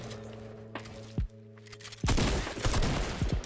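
Shotgun blasts go off in Fortnite: a single sharp shot, then another burst that runs into a dense, loud stretch of overlapping gunfire and impacts.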